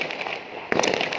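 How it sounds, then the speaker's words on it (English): Fireworks and firecrackers going off outdoors on New Year's night, a rapid crackle of bursts with a sharper nearby bang midway, set against ongoing distant popping. "you can hear the sounds, you can hear the fireworks."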